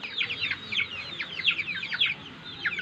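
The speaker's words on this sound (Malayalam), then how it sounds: "എൻ്റെ വീട്ടിലെ കോഴി വളർത്തലാണ്." Young backyard chickens, one to one and a half months old, cluck and chatter continuously in a quick, busy stream of short calls, fairly close, with no talking.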